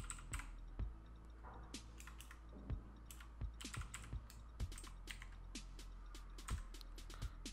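Someone types on a computer keyboard, a quick irregular run of crisp, close key clicks with occasional heavier presses, alone over a low steady hum.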